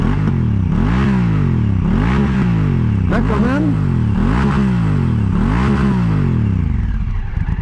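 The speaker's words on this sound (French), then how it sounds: "je vais faire écouter le bruit quand même, parce que c'est vraiment sympatoche" A Honda Africa Twin DCT motorcycle engine revs repeatedly in rising and falling swells, loud and close, with a brief spoken remark over the roar.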